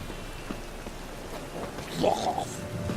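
Steady rain falls in The Witcher 3: Wild Hunt, a soft even hiss throughout, with a voice breaking in briefly near the end.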